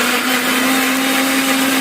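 A kitchen mixer grinder whirring loudly and steadily up close while blending onion, garlic, ginger and whole cumin with a little water into a masala paste.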